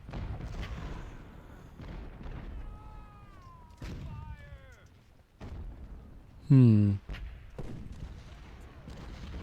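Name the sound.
cannon artillery fire in the video game Ultimate General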